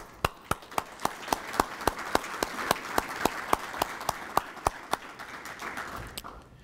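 Scattered, slow hand claps, about two dozen sharp hits spaced steadily over a soft bed of murmuring applause, at a military Senior Leader Course graduation ceremony.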